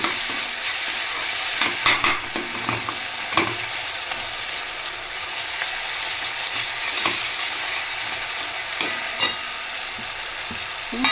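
Raw chickpea biryani sizzles in a pot as it is stirred, with a constant close hiss punctuated by scrapes and knocks of the ladle against the pot, and no talking.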